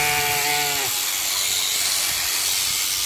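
A lamb bleating on a village farm among sheep, a single short wavering cry at the start, then fading into a loud, steady hissing noise that fills the rest.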